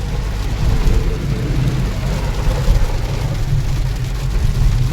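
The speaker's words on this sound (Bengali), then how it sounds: "খুবই জোরে বৃষ্টি হচ্ছে এখানে" Heavy rain pours down during a road trip in Rajasthan, a loud, dense hiss of falling water mixed with a low vehicle rumble, continuous and close throughout.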